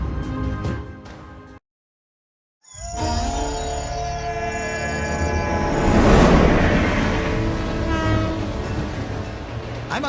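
The Maharajas Express luxury train runs across India, a horn sounding before a brief silence, then a loud rolling rumble with another long horn blast that swells and eases.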